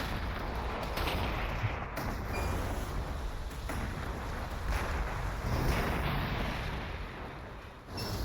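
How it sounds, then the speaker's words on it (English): Artillery barrages in the strategy game Warhammer 40K Gladius Relics of War, a continuous loud rumble of distant booming explosions rolling over one another, with wind-like noise throughout and no voices. "Let's fire more artillery."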